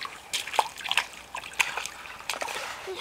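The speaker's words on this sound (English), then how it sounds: "Splashy, splash, splash." Water splashes in short, irregular bursts, light and close, with a few sharp splatters and a faint voice underneath.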